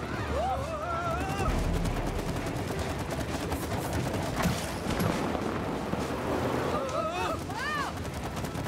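Rapid gunfire from the co-op video game It Takes Two. Shots rattle in a steady, dense stream for the whole stretch, with whooshing effects and cartoonish whistling game sounds layered over the shooting.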